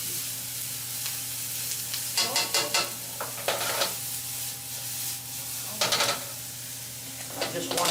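Garlic and onions sauté in a pan for an Italian dish, a steady close sizzle broken by bursts of stirring and scraping, with a faint low hum underneath.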